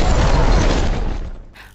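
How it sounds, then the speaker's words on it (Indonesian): A car explodes in a film scene with a loud, broad blast that roars and crackles for about a second, then rumbles away into a fading tail. "Kemudian tak lama mobil pun meledak, Steve pun tewas"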